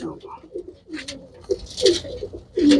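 Several pigeons coo in repeated close, burbling phrases, growing louder toward the end, with other bird chirps mixed in.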